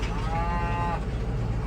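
Cattle low near a farm gate, one sustained moo rising over a steady engine-like rumble from a nearby tractor, with no talking.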